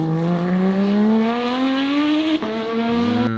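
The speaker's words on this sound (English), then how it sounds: "I have this whole exhaust system, so this is what it sounds like in real life." A sports car fitted with a full aftermarket exhaust system revs loud and close, its engine note climbing steadily in pitch, dipping briefly, then surging again before easing off.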